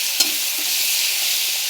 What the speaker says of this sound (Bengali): দেখো চিংড়ি মাছটা আমি ভেজে নিচ্ছি